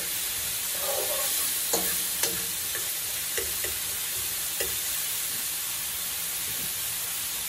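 Spices and onion being stirred in a pot on the stove, with soft scraping strokes and a few light knocks over a faint, steady sizzle and hiss, quiet and close.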